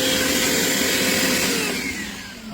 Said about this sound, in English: with the wet suction, it is doing its thing